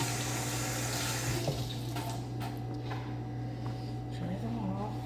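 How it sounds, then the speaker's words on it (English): Tap water runs steadily into a sink while hands are washed outdoors in hot desert heat, a close continuous splash with a few small knocks. "So let me wash my hands."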